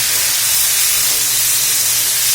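Water poured into a hot pan of frying vegetables, before Malabar spinach goes in, gives a loud, steady steam hiss and sizzle that holds without a break, close up and with no talk.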